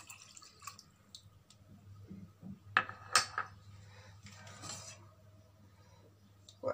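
A spoon stirs vinegar and lemon juice into water for a homemade hand sanitizer, giving faint, scattered clinks and light splashes against the container with no voices.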